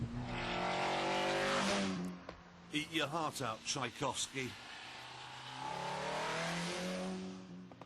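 A TVR Cerbera sports car's engine roars loudly, then blips through a rapid series of sharp revs before settling into a sustained drone, with someone speaking briefly over the revving.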